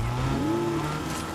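A vehicle being driven in Fortnite Season 2 gives a steady, close engine drone whose pitch swells upward and then levels off over a brief stretch, with no talking.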